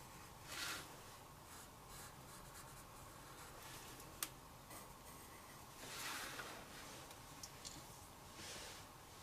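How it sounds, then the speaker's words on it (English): A pencil darkens a line on paper while drawing a mountain lion's eye, giving soft, faint scratchy strokes in short bursts across a quiet background. "I'm going to just take my pencil and darken this line at the top of the eye first"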